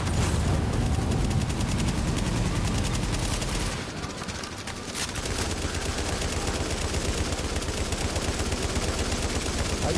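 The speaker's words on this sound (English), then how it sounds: "Apparently he likes machine guns." Continuous, loud machine gun fire from a multiplayer match of the video game The Division, a dense rapid rattle that briefly thins out midway before resuming at full intensity.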